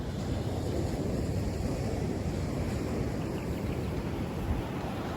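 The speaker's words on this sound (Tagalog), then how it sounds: "Sobrang lakas ng alon." Strong ocean waves at a beach in San Felipe, Zambales, roaring as a dense, continuous wash of surf with wind buffeting the microphone, fairly loud and steady with no voices.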